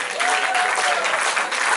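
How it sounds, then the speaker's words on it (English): Audience at a music academy stage show breaks into applause for a couple being welcomed on stage, a dense, steady clapping roar that holds throughout with brief dips in loudness. "Please welcome them with a huge round of applause."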